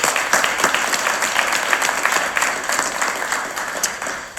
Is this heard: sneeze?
no